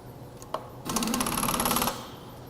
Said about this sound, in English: So let's put the collet in the machine.